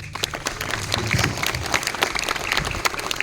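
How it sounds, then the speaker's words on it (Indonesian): Crowd applause for everyone at a community gathering, a steady wash of many hands clapping at moderate loudness, with a low murmur of voices underneath. "tepuk tangan buat semua."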